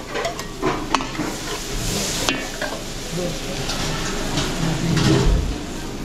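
Onion and garlic frying in butter, a steady close sizzle with stirring scrapes and a few pan knocks running throughout.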